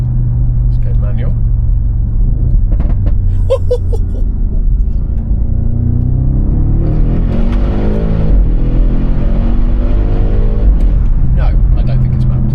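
A 560-horsepower Audi RS6 idles with a deep rumble, then surges at full throttle halfway through, its engine tone sweeping upward loudly and close by while someone talks over it.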